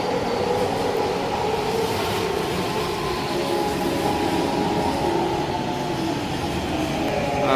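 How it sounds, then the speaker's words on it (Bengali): A train pulls into a station in Kyoto, Japan, with a loud, steady rumble and rising mechanical whine as it draws close, continuous throughout and with no talking. "এই তো ট্রেন আসছে"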